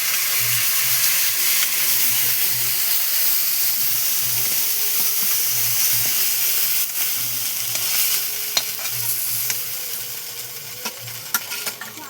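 Bengali mustard fish sizzling and frying steadily in a pan, a continuous close, loud crackling hiss with sputtering pops, without any talking over it.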